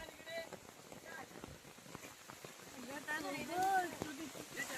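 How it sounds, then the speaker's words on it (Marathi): Heavy rain pours down on an outdoor set during a song shoot, a steady soft patter and hiss running underneath people talking nearby. "शूट चालू असताना पाऊस आलाय."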